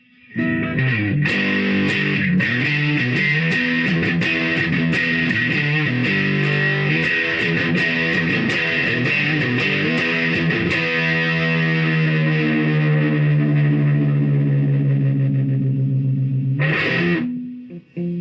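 Heavily distorted electric guitar through a fuzz pedal: choppy strummed chords, then a long sustained buzzing chord that rings out before a final short stab.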